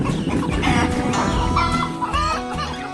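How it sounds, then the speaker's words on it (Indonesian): Farm chickens clucking busily and close by as they peck at fresh corn at lunchtime, several overlapping calls in quick irregular bursts with no speech. "Ayam-ayam itu terlihat sangat lahap menikmati jagung segar."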